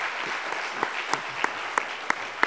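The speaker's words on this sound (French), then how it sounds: "Peut-être est-ce qu'on peut applaudir les intervenants avant de passer à la pause ?" Steady applause from a conference audience for the panel speakers, a dense even patter of clapping with a few sharper individual claps standing out, no voices.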